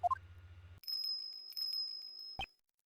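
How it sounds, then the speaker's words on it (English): A bell ringing in the video game Ace Attorney Investigations 2, bright sustained ringing tones following a short rising chime, ending with a sharp final strike before silence. "Is that a bell?"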